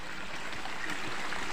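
A river flows steadily along its course, with a soft, continuous rushing of water throughout.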